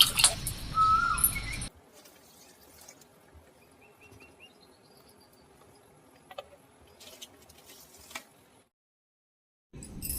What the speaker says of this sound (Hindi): सबसे ज़्यादा देखिए चिड़ियों का चहकना बहुत ही अच्छा लगता है